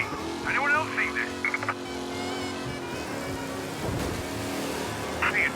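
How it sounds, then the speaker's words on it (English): A race car in Mafia Definitive Edition roars through the city with a steady engine drone and rushing road noise, while radio-style voices talk over it in bursts. "Officers reporting a race car driving at speed through the city."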